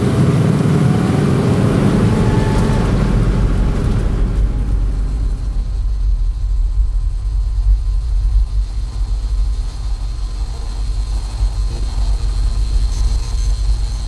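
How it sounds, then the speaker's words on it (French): A car passes by, loud and close at first with a broad engine and tyre rush, then fading away over several seconds to a low steady rumble, no talk heard. "il y a une voiture."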